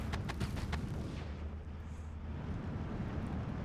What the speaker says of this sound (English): 60 mil mortar doing a lot of damage